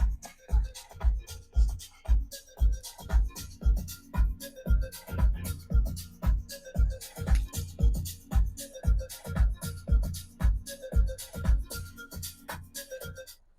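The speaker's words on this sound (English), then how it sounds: "Let's hear the sound system." Music from the sound system of a 2024 Hyundai i20 N-Line with a punchy repeating beat and heavy bass thumps, steady and moderately loud inside the cabin.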